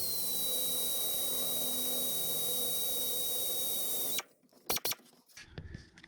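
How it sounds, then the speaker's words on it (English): A power drill with a carbide bit whines at a steady pitch for about four seconds, then stops, followed by a few light clunks and handling noises. "all I'm going to do is just kind of drill a hole up here"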